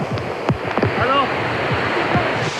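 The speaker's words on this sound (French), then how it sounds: "Regarde la belle cascade." A rushing torrent of a canyon waterfall roars steadily in a loud, continuous wash, with people talking and calling over it.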